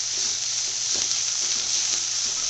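Masala frying in a pan with small onions for a South Indian mutton fry, a steady close sizzle throughout with faint stirring scrapes.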